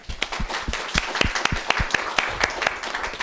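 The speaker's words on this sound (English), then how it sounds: "Everybody, give them a big round of applause." A small audience at an improv lab session gives a round of applause, with distinct, close individual claps in a fairly sparse, uneven rhythm.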